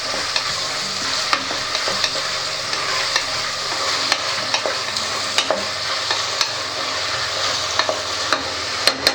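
Sliced tomatoes fry in a pan with a loud, steady sizzle as a utensil stirs them gently, adding scattered sharp clicks and scrapes near the end. No voices.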